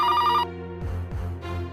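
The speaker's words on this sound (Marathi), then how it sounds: "एवढा रात्री कोणाचा फोन असू शकतो?" A home telephone rings late at night, a bright electronic trill sounding once clearly and loudly, then stopping and giving way to quieter room tones and faint low sounds.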